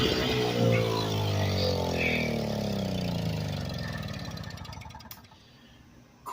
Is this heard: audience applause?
no